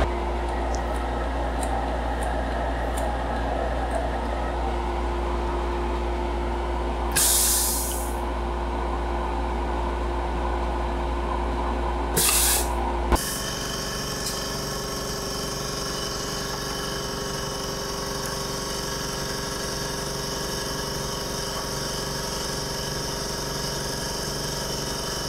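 Injection molding machine running a cycle, a steady loud mechanical hum with a couple of hissing bursts partway through, then a shift to a different running drone that continues to the end.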